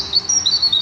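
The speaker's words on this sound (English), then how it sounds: "It's a bird." A bird chirps in a quick, bright run of high tweets, close and clear, lasting under a second.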